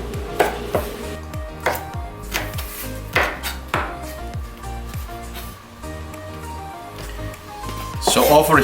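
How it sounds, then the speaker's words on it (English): Chilies being chopped with a knife on a cutting board, several crisp close thuds in an uneven rhythm, quiet and under a person talking. "just cut all the chilies"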